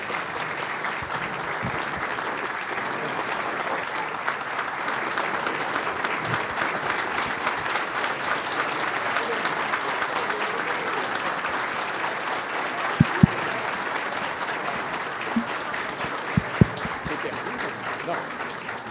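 An audience at an IASP lunch meeting with Minister Luís Roberto Barroso gives sustained, dense applause. The clapping stays loud and steady throughout, with a few sharper individual claps and faint voices underneath.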